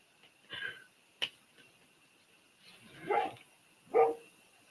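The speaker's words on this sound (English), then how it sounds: "I can hear the other dog down the road barking too" A dog barks a few times from down the road, the barks distant and fairly faint, spaced out in separate bursts against a quiet background.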